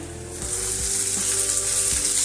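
Tomatoes sizzling in a pan with onions fried until pinkish, for a spicy prawn masala; a dense, bright frying hiss builds and holds steady up close, with faint background music underneath and no talking.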